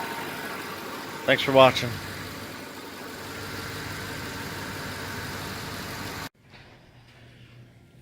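A car engine idles with a steady, even rumble, cooling system recently treated with radiator stop-leak; a voice speaks briefly early on, and the engine noise drops away sharply near the end.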